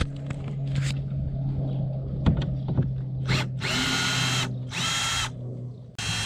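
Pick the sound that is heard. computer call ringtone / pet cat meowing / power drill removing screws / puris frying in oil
power drill removing screws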